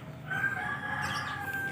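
A rooster crows once, a moderately distant, drawn-out call in a quiet outdoor yard, with faint hens clucking in the background.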